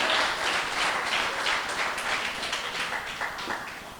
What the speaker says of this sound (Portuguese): Você pode dar um forte aplauso ao Senhor por isso?